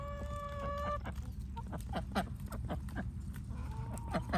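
Hens cluck in a busy farmyard chorus, with a few higher squawks and calls, fairly close and continuous throughout.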